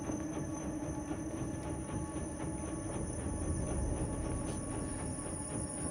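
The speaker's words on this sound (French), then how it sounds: "Petit train, les petits trains, toujours des petits trains." A small train in the video game Inside rumbles steadily past, with a continuous rolling clatter of wheels on rails and a faint high whine, fairly quiet and with no talk over it.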